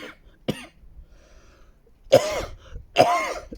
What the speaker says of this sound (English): Don't know where this cough's coming from